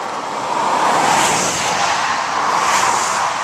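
Busy highway traffic rushes past close by in a loud, continuous wash of tire and engine noise, swelling gently as vehicles pass, with no voices.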